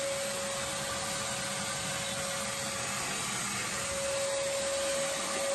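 A vacuum cleaner runs steadily and loudly without pause, cleaning out an old wooden showcase cabinet with worn green felt, a constant close whooshing drone with a faint steady whine on top.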